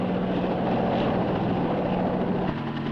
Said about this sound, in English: What do you suppose that whirly-bug's doing around here?